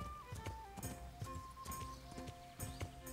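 Horse hooves clip-clop steadily in Kingdom Come: Deliverance as a rider travels, a brisk repeated trot under game music with no talking.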